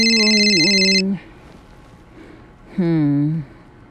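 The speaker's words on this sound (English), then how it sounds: "The phone just keeps ringing, ringing, ringing." A telephone rings in two electronic bursts with a pause between them, loud and close, with no talking over it.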